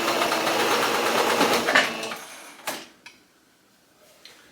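A home sewing machine stitches a pant leg in a steady, fast whirring run for about two seconds, then stops, leaving a few faint clicks and taps.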